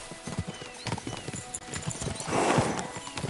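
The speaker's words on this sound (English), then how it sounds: "We should spur the horses on." Horses gallop in the video game Kingdom Come: Deliverance 2, a quick drumming of hooves close by with a neigh near the end and faint voices in the background.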